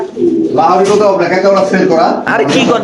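Lahori pigeons coo at a pigeon farm in low, rolling bursts, close and loud, mixed in with a person talking over them.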